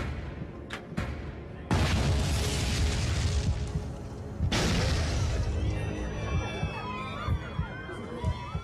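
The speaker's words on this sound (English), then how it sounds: "Two explosions rock the plane." Two loud, sudden explosions on an aircraft about three seconds apart, each a broad roaring burst that lingers, followed by rumbling noise and faint electronic tones.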